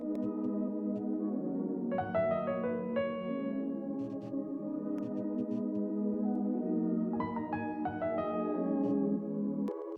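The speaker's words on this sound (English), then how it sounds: "Next, I added an addictive keys, and I just added like a couple piano accents" Soft piano accents from the Addictive Keys plugin play a few scattered chords and note clusters over a steady, low sustained ambient bed, with light reverb, all at a gentle, quiet level.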